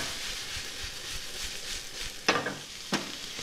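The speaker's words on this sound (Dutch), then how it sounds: "de helft van de prei nu gebruiken om die curry mee te laten bakken" Leek and curry paste sizzle and crackle steadily in hot oil, with a couple of sharp scraping stirs in the pan.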